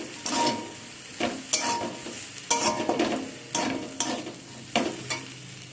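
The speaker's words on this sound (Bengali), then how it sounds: "দিয়ে একটু নাড়াচাড়া করে নিচ্ছি। দিয়ে শাক আর আলুর সাথে ভালো করে পোস্তটা আমি মিশিয়ে নেব।" Poppy seed paste being stirred into water spinach and potatoes in a pan: repeated spoon scrapes and stirring strokes roughly once a second over a low sizzle, with no talking.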